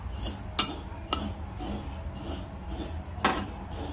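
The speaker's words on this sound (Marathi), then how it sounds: "खसखसीसाठी कमी फ्लेमवरतीच भाजून घ्यायची ही" Poppy seeds dry-roasting in a pan on a low flame, stirred with a metal utensil that gives light, irregular clinks and scrapes, two of them sharper, over a quiet background.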